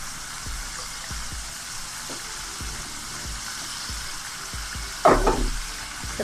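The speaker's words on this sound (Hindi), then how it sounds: "इसको भी हल्का सा भून लेते हैं टमाटर के पेस्ट को" Tomato paste fries softly in a pan for a Pakistani-style black chickpea curry, a low steady sizzle throughout with a brief louder stir or scrape near the end.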